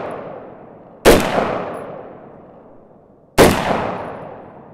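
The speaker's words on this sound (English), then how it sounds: "God, what a smooth shooting gun." Two sharp, loud gunshots from a Sig Sauer MCX Virtus pistol, about two seconds apart, each one cracking hard and then ringing out in a long decaying echo across the outdoor range.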